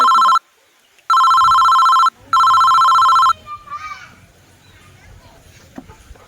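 A mobile phone rings loudly and up close in three bursts of electronic tone with short gaps between them, then stops, and quiet talk and rustling follow.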